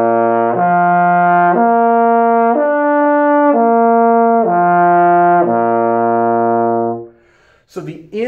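A trombone plays smooth connected lip slurs with rounded air flow, a sustained brassy line stepping up and down across several notes for about seven seconds, close and clear, ending with a brief breath or voice sound.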